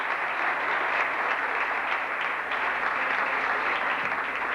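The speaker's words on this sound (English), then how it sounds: "I think a round of applause for our distinguished guests." An audience claps for distinguished guests at an evening show, steady and full applause that holds an even level from start to finish.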